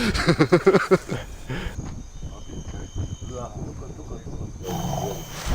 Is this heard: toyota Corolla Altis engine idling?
no